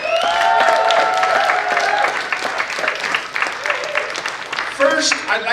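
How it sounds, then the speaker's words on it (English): Crowd at a spoken-word and music event in Albuquerque claps and cheers loudly, dense applause with whoops that thins out toward the end, with voices calling out over it. "Make some noise, clap your hands,"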